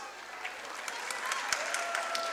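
An audience applauds at a school prize distribution for top academic rank students, a soft, continuous patter of many hands that builds slightly, heard from a distance with a faint tone running underneath.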